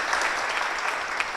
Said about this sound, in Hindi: रमन सर के लिए जोरदार तालियां